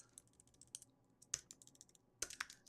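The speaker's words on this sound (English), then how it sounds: "You know you type better when no one's watching, right?" Quiet, close typing on a computer keyboard, with irregular clusters of soft key taps and a few sharper clicks against near silence.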